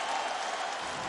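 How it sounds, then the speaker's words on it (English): A video game crowd in UFC 3 roars and applauds in a brief, dense, steady burst of cheering with no break. "This crowd is on its feet."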